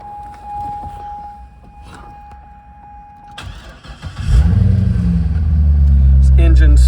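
A 2008 Chevrolet Corvette C6 with an LS3 V8 cranks briefly and catches, then settles into a loud, steady idle close by; a voice is heard before it starts.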